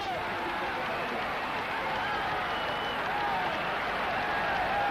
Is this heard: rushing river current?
no